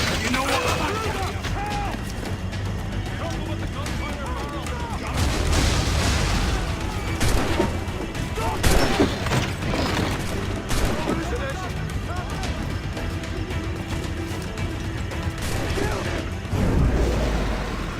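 Gunfire in the Assassin's Creed Black Flag video game, a loud run of sharp shots and bangs over a busy battle scene, with voices shouting throughout.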